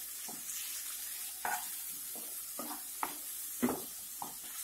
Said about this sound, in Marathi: हळद, टोमॅटो, कढीपत्ता घालू व हे सुद्धा छान परतून घेऊ.